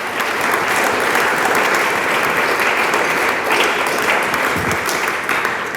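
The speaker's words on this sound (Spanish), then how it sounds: "Dele palmas al Dios del cielo" A church congregation applauds during a service, a thick, continuous wash of clapping from many hands that holds steady and loud for several seconds.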